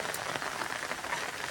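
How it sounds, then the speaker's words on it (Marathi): Rain falls outdoors during bamboo cutting, a dense, steady patter of drops on surfaces, fairly soft and continuous through the brief moment, with no talking. "आता बांबू तोडता तोडता पाऊस आलेला आहे"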